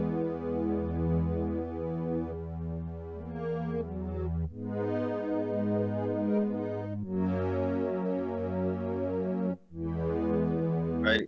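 A raw, unprocessed synth pad sample, made by copying a sound onto a pad, holds sustained warm chords that shift every couple of seconds, steady and fairly loud with no voices.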